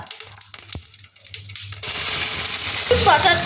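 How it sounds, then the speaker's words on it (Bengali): Cumin seeds hit hot oil after a quiet stretch of low hum and small taps, bursting into a loud, steady sizzle that holds to the end. "তেলটা গরম হয়ে গেছে, এর মধ্যে আমি কিছুটা পরিমাণ জিরে ফোড়ন দেব।"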